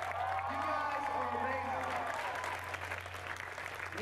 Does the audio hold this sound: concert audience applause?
yes